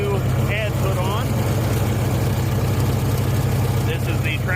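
A 1955 Minneapolis Moline UB propane tractor with a wide front and a new head runs steadily, its low rhythmic engine thrum close and loud, with a voice speaking over it.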